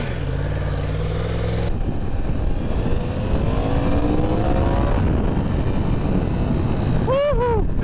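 A 1000cc motorcycle being ridden, its engine note climbing and shifting steadily through the gears over constant wind rush, with a brief sharp rise in pitch near the end.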